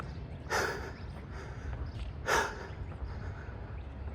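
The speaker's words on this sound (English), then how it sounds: "my heavy breathing" Heavy, labored breathing from someone walking up a hill outdoors, two strong breathy gasps about two seconds apart over a steady low rumble of wind or movement.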